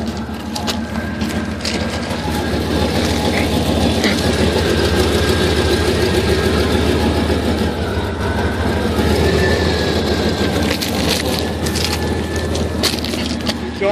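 A 1989 Chevy C1500 with a 3-inch exhaust idles steadily nearby with a low, even rumble and a few light clicks and knocks over it.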